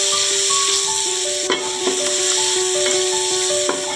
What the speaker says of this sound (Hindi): ये 3 प्याज हैं बारीक कटे हुए, ये शामिल कर देंगे। इसको अच्छे तरीके से हम सौते करेंगे।